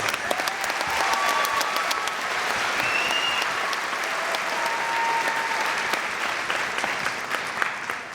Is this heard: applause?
yes